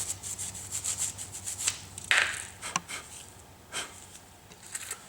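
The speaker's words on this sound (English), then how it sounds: "I can clean where the abutment clips snap into place with the wire brush, removing all the rust and the scale." A wire brush scrubs rust and scale off the rear disc brake caliper abutment of a GMC Yukon Denali, making short, raspy, close scratching strokes in an irregular rhythm. One stroke stands out as sharper than the others.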